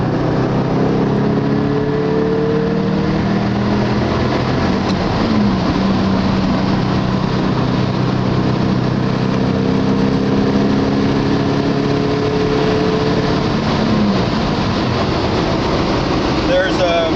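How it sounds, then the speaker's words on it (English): Porsche fitted with a Subaru engine, running continuously and loud from inside the car, the engine note rising and falling through revs and downshifts under a steady rumble, with someone talking over it. "This thing redlines about 72, so you can downshift and get away from people."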